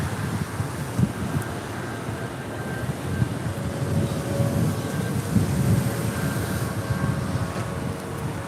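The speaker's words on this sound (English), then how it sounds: "up next is United Airlines Flight 2039 headed to Chicago O'Hare on a" A United Airlines Boeing 777-200 jet departs LAX with a broad, steady roar rumbling at moderate distance, wind noise brushing the microphone and faint tonal whines threading through.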